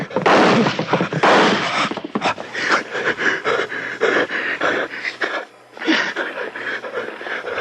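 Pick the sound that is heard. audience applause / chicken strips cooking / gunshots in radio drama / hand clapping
gunshots in radio drama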